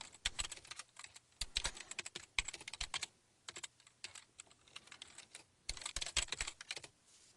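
Computer keyboard typing in irregular bursts of quick key clicks, close and clear, with brief pauses between runs and no voices.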